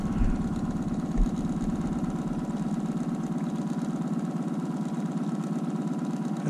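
Outboard motors idle close by on a fishing boat on a Rangeley lake, a steady droning hum that runs unbroken throughout at moderate loudness, with a brief low thump near the start.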